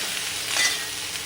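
Chopped onions with garlic fry in a pan, a soft steady sizzle with a brief stir partway through.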